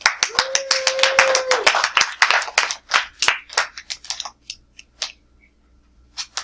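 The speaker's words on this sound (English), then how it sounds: "All right, let's give him a hand." Students in a math classroom clap for a classmate, a scattered round of sharp individual claps that starts strong, grows sparse and fades to a few isolated hand claps, with a brief tone sounding early on.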